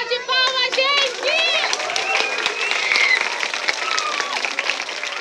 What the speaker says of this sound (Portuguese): Mais uma salva de palmas, gente!